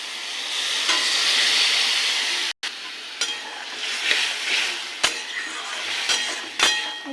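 Water poured into a pan of frying ridge gourd, bori and poppy seeds sets off a loud, close, steady sizzle, broken by a brief cut and a few clinks of a stirring spoon.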